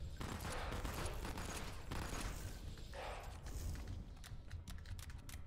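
Dual weapons blasting in a video game, a dense barrage of rapid gunshots with sharp cracks and clattering bursts throughout, moderately loud with no voices over it.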